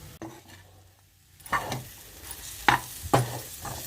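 Bitter gourd pieces frying in a pan, with stirring scrapes and short bursts of sizzle at a few moments over a low, steady background, close and moderately loud.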